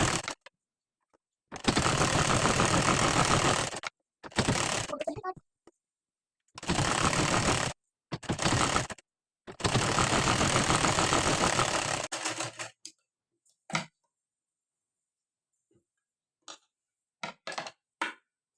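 A sewing machine stitching a blouse neckline runs in loud, steady bursts of several seconds each, separated by pauses, then gives way to a few short clicks and taps near the end.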